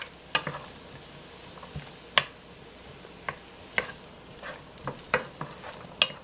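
Garlic, peppers and onions cooking in a pot, a low sizzle underneath while a spoon scrapes and knocks against the pot in about a dozen sharp, irregular clacks.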